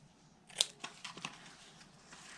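Scissors trim ribbon ends on a Valentine's goody bag, a few quick, close snips and light rustles scattered across a short, quiet stretch.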